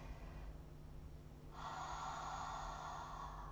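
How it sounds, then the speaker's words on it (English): A soft, drawn-out exhaled breath, a gentle airy haah sound during a yoga breathing exercise, close and quiet with no talk. "H-A-A-A-H, and it's going to be super soft"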